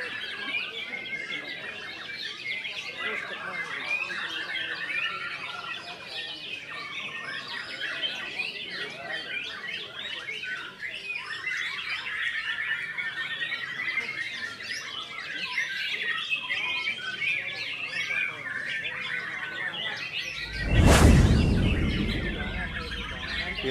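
A caged songbird in cage number 35 chirps and squawks in a dense, continuous stream of bright calls, close and lively, broken near the end by a brief loud burst of handling noise.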